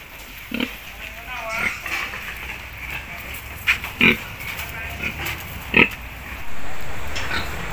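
A pig being caught for sale as a fattener at a bamboo-crated farm pen lets out several short, sharp squeals amid a busy, noisy backdrop, while people talk throughout.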